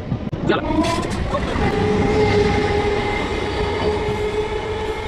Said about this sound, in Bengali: এখন এই ট্রেনই চলে যাবে লালগোলার উদ্দেশ্যে